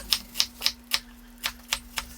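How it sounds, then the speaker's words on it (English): A knife dices vegetables on a small cutting board for a Cajun jambalaya, making seven crisp, evenly spaced chops close by against a faint steady hum. No one speaks. "Then I'm going to cut like this. Try to dice it."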